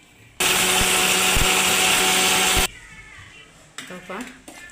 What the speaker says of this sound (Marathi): हे असं बारीक वाटून घेतले मिक्सरमधून एकदम छान वाटले